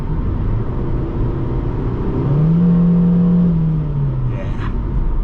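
A 2001 Honda Civic LX engine pulls hard under acceleration from inside the cabin, its rising drone climbing in pitch and loudness before easing off, steady road rumble beneath.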